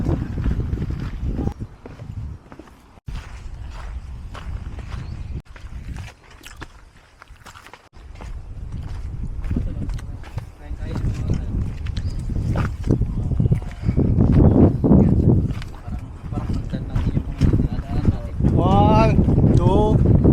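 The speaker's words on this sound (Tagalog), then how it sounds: "Mahangin, di ako magdodrone dito." Strong wind buffets the microphone on an autumn mountain hike in Umanose, Kobe, a loud broadband roar that gusts throughout, mixed with footsteps and people talking.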